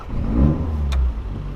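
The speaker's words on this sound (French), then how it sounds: "t'as un petit bruit de dump valve en plus" A Toyota Celica GT4 WRC replica's engine revs loudly up close, and a short hissing puff from the dump valve cuts in near the middle of the rev.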